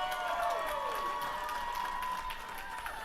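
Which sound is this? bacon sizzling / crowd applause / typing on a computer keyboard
crowd applause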